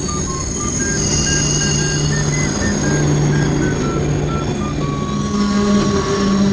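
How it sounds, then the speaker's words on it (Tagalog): A KTX high-speed train pulls into a station in South Korea with a loud, continuous rumble and a high, steady whine. Rising and falling beeping tones sound along with a faint murmur of voices. "Guys, dumating na yung tren natin."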